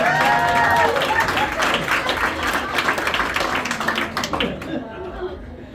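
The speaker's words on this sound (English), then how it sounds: "Round of applause for our helpers." Audience applause for the volunteer helpers at a live magic show in a Nashville venue, a dense burst of clapping that is loud at first, then thins out and tapers off, with voices mixed in.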